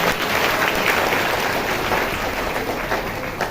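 A church congregation claps hands during a Hindi worship service, a dense continuous wash of applause, fairly loud and even throughout, with no distinct voices.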